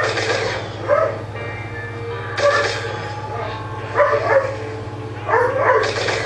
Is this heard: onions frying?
no